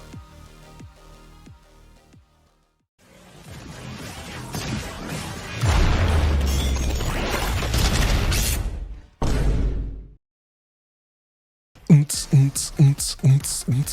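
Fast, stylish first-person shooter combat from Ultrakill with Robobeat's rhythm mode, built from crashing impacts, whooshes and pounding beats, with a short silent gap and a burst of punchy rhythmic hits at the end.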